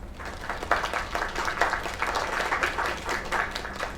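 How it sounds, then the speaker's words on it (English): An audience claps steadily for several seconds after a singer's performance, a dense patter of many hands at moderate distance with no voices on top. "Another round of applause."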